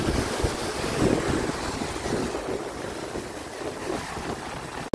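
A mountain waterfall near Baños, Ecuador roars on a rainy day, a loud, steady broadband rush with no voices.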